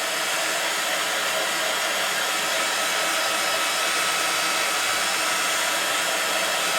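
A hair dryer blows steadily and loud at close range over a small handmade paper card, a continuous airy roar with no pauses and no talk.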